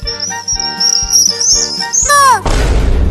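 Baby birds chirp in a tree in a rapid series of close, high, loud tweets with a repeating rhythm, ending in a sweeping downward trill followed by a burst of noisy rustle.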